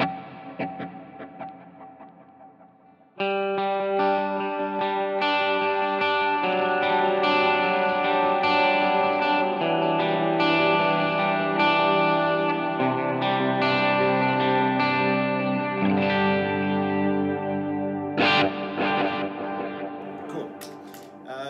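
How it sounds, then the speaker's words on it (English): Electric guitar notes through a Line 6 Helix with a quarter-note delay stacked on a dotted-eighth delay, echoes cascading into a shimmering rhythmic pattern that fills the space; no talking. "how I use the quarter note delay is stacking that with the dotted eighth to give this cool little pattern"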